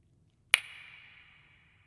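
One sharp click rings out in simulated Alexander Nevsky Church acoustics, as picked up by an omnidirectional mic at the centre of the church. A bright reverberant tail follows and slowly fades for over a second into quiet.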